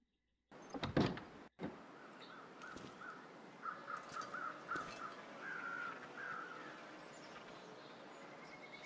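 Crows caw in a rapid series of harsh calls within a snowy wilderness in The Long Dark, preceded by a couple of sharp, loud thumps and a quiet ambient background, with no talking.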